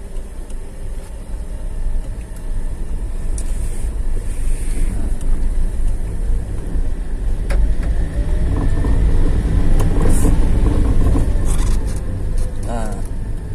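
A manual car on a flat road pulls away as the brake and then the clutch are slowly released, its low engine and road rumble building steadily, close up with a voice talking over it.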